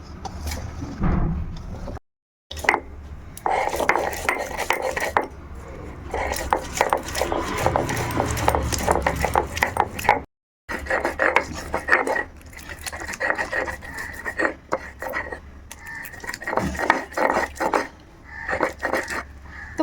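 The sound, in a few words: garlic, tomato and cashew being ground into paste on stone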